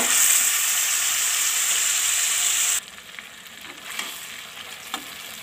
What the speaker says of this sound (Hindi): अब हम इसे शामिल करते हैं सबसे पहले 2 क्यूब और इसे अच्छी तरह मिक्स कर लेंगे।